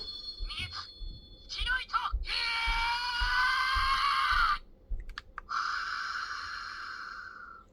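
Breathing sound effect from a Bandai Proplica Nichirin Sword toy (Tanjiro Kamado), electronic breathy whooshes with tonal chimes from a small speaker, heard in bursts with button clicks between them and someone talking over parts.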